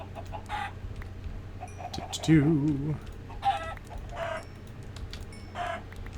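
Several chickens cluck in short bursts in a Minecraft Skyblock game, with a louder warbling squawk in the middle, over a low steady background hum.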